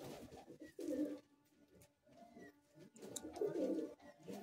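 Kolkata high-flying Madrasi pigeons at a loft coo in two low, throaty bursts separated by a quieter stretch, heard close up with no talk over them.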